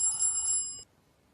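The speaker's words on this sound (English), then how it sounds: "in that we can see the bell ringing and also we can hear it" A bell rings inside a bell jar filled with air, giving a bright, metallic, close ring that sounds for under a second and then stops abruptly, leaving near silence.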